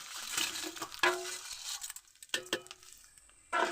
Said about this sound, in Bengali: এবার আমি ডালটাকে তেলের সাহায্যে ভেজে নেব, সুন্দর করে ভেজে নেব